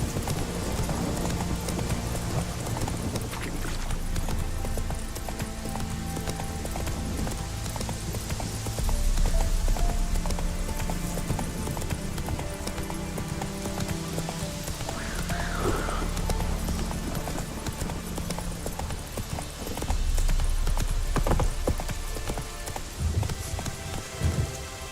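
Hoofbeats of a horse galloping in the video game Witcher 3, a steady clip-clop rhythm mixed with a rain-like hiss and game ambience, loud and continuous throughout.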